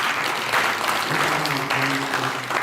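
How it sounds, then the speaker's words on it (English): A debate audience bursts into steady applause, a dense wash of many hands clapping at once, with a few voices faintly under it. "Let us give them a good round of applause."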